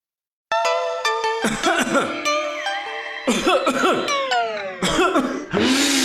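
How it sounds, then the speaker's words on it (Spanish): A person coughs several times in a row, harsh close bursts, with tonal sounds ringing alongside them. "No dejes que la tos te juegue una mala pasada."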